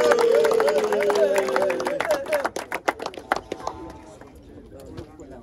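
A rugby gathering's crowd claps for the organizer, a burst of scattered hand claps that fades out, following a voice and mixed with chatter.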